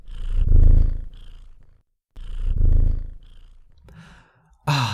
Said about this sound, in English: Purr, P-U-R-R, is a lovely sound that cats make, and rather than try to imitate it, I will just play it for you here.